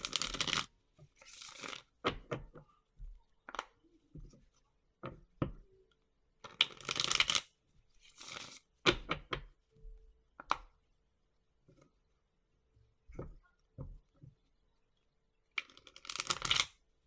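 Tarot cards are shuffled in several separate bursts of riffling and bridging, with quieter taps and card handling between them, close and fairly soft, with no talking.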